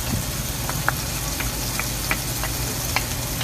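Shrimp paste (alamang) frying in a pan for pork liempo pakbet, a steady low sizzle with a few soft clicks and pops scattered throughout, moderately close and without speech.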